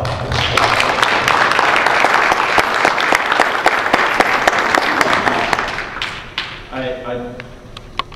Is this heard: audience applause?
yes